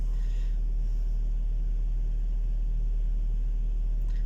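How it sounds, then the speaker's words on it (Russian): A car engine idles while warming up on a stormy winter day with snow, giving a steady low hum and rumble that stays constant and close, with no talk. "Прогреваю машину."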